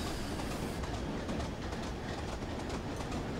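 A train brakes in Train Simulator 2021 on the Weardale and Teesdale line, giving a steady, dense rumble of wheels and rail noise with faint clicking and a soft hiss, continuous and moderately loud throughout with no voices.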